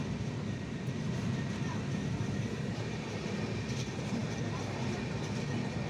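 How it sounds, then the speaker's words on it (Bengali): The 12343 Darjeeling Mail running between stations, a constant loud rumble of the carriage with faint rhythmic rail clatter, heard from inside the train. "নির্দিষ্ট সময় আমাদের ট্রেন ছেড়ে এক একটা স্টেশন পেরিয়ে চলল"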